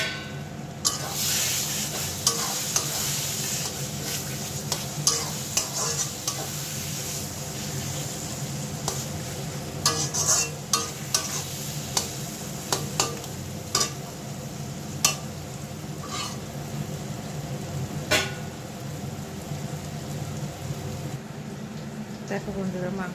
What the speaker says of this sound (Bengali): মশলা ফ্রাই করতে দিয়েছিলাম।